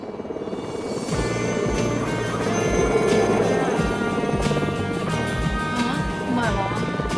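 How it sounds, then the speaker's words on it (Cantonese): A helicopter hovers nearby with a steady, rhythmic rotor thumping that runs beneath voices and other layered sound. "真係有直升機"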